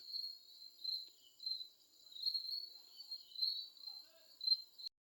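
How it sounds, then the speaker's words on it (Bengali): Crickets chirp in a rhythmic, pulsing trill outdoors, faint but clear and repeating in steady bursts against an otherwise quiet background. "জিজি পোকার কি সুন্দর ডাক"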